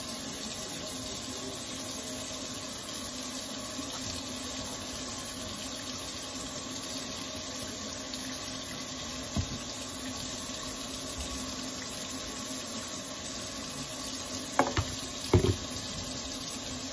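Water runs steadily from a tap while a lace front wig is washed, a continuous even hiss with a few brief splashes and knocks near the end.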